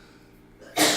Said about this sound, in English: Still sneezing.